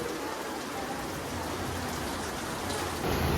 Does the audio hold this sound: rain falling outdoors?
yes